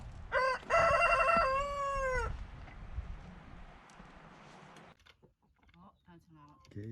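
A rooster crows loudly nearby, a long harmonic call followed by a second, then people talk over low background noise.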